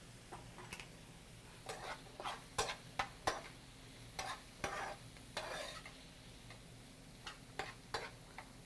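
Onions cooking in a pan with potato pushed aside, a quiet low sizzle under repeated sharp ticks and scrapes of a utensil stirring, irregular and close.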